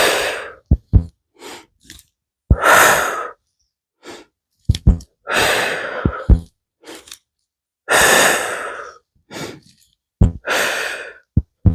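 Deep, audible breaths taken during a yoga core exercise, with long rushing exhales alternating with shorter inhales in a steady rhythm, close and clear, punctuated by small clicks and taps.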